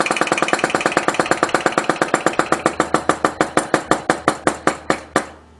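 Homemade Wilber oscillating engine, built in pieces with welded aluminum parts, running over a small flame as a steady train of sharp, close chuffing knocks that slowly space out and fade as it winds down.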